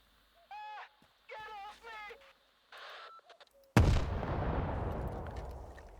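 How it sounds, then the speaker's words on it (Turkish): A sudden loud bomb explosion in the video game S.T.A.L.K.E.R. 2: Heart of Chornobyl bursts in after a few short tonal game sounds, then a long rumbling noisy decay fills the rest. "Bomba patladı."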